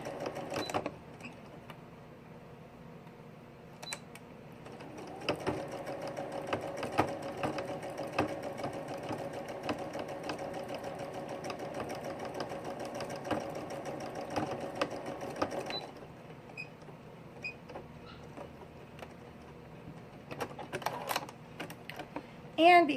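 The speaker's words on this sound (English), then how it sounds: "Again, I try to sew in the ditch." A sewing machine stitches in the ditch on a seam, running steadily for about ten seconds with short bursts before and after, close and moderately loud with faint background noise.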